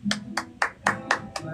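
Six sharp hand claps in a loose, uneven rhythm during a live stream, close and fairly loud, with a low murmur of background sound underneath.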